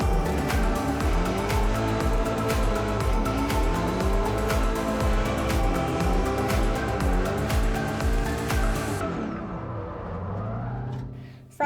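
Formula Drift Pro Spec car at the 2021 Orlando round, engine loud and revving hard with continuous tire squeal for about nine seconds. It then drops away to a quieter fading rumble.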